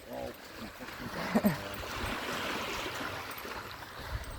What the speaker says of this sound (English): Listen to the waves.